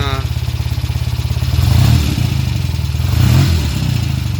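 A 1975 Norton Commando Mk3 motorcycle engine idles loud and close with a steady, throbbing twin-cylinder pulse, swelling slightly twice as it runs on.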